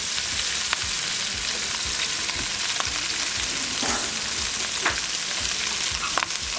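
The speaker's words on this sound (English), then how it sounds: "See, the meat is already turning brown a little bit because the oil is hot. I'm gonna add some garlic." Meat browning with garlic in hot oil sizzles steadily and loudly up close, a dense continuous crackle punctuated by occasional sharper pops and light stirring scrapes, with no voices.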